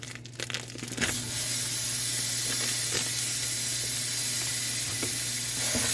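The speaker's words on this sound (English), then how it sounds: "Now I'm going to just cook the ground beef." Ground beef sizzles loudly in a hot dry pan, a steady broadband hiss that starts abruptly after a second of quieter handling, with a few crackles and pops on top.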